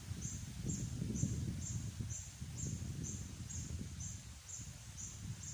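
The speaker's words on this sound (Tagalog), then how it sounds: "Rinig nyo po rito yung mga huni ng ibon," Small birds sing with a faint, steady string of repeated high chirps, heard from a distance over a constant low outdoor rumble that sounds like flowing water, in a natural setting where colorful butterflies are flying.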